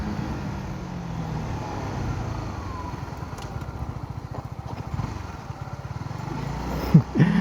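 A Honda CBR150R motorcycle engine drones steadily while riding, with a low throbbing pulse and wind rush, the note shifting as it slows for braking into a corner.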